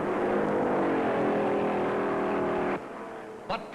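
Stock cars at the 1956 Darlington Southern 500 roar past in a loud, sustained engine drone whose pitch slowly falls as they pass, then cut off abruptly, followed by brief quieter sounds.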